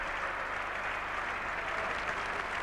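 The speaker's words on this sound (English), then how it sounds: "And final applause for the 200 going up." A Test match crowd at Edgbaston in 1981 keeps up its applause for England's 200, a uniform, sustained sheet of distant clapping with no voices standing out.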